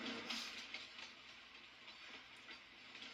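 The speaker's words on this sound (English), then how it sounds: "Oh, there's the train." A train rolls past in the Farming Simulator 22 farming game, a faint steady rumble with soft hissing and light rail clatter, heard alone at a distance.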